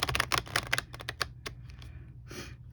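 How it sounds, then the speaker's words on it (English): Tarot cards shuffled by the corners on a cloth background, giving a rapid run of crisp riffling clicks that slows into a few separate taps and ends with a soft brushing push. "I just shuffle the corners and then push them together"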